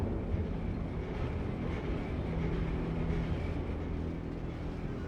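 A train rumbles steadily in a low, continuous drone, moderately loud with no voices.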